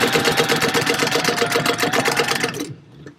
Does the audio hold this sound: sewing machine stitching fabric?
yes